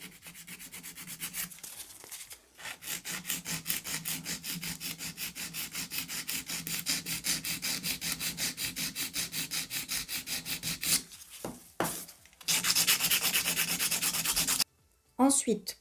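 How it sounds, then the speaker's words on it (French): Coarse nail file rasping across an acrylic resin nail, a fast steady run of back-and-forth strokes, loud and close, with brief pauses and a final burst of filing. "avec une lime grinçant pour gagner du temps. Vous voyez, ça lime beaucoup mieux."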